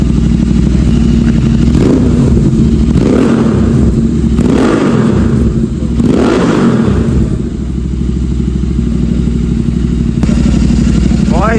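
Motorcycle fitted with Motoking headers and a full exhaust system, idling loudly up close with a deep steady drone and several blips of revving that rise and fall.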